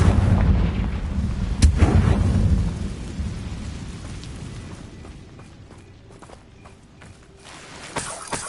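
Confringo fire spell blasting in the video game Hogwarts Legacy: a loud booming explosion that rolls into a long rumbling decay, with a sharp crack near the start and a fresh thump at the end.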